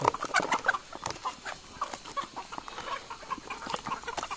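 A flock of chickens clucks steadily and continuously at close range, many overlapping calls with no talking.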